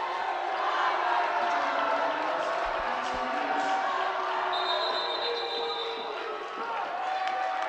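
Crowd at a high school boys' basketball game between Capital and Shelton, a sustained loud roar of displeasure filling the gym, steady throughout with a faint whistle-like tone midway.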